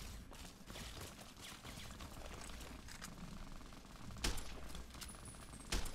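Gunfire in a modded Fallout 3 / New Vegas game, a steady rumbling battle ambience punctuated by two sharp, louder shots near the end, fairly quiet overall.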